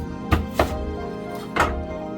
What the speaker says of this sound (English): we're gonna take a small red onion and we're going to just cut it in half